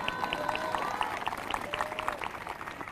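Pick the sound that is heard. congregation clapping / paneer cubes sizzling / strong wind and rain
congregation clapping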